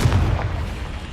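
The Confringo fire-blast spell exploding in the Hogwarts Legacy video game, a deep booming burst that rumbles loud and close, then tails off into a sustained roar.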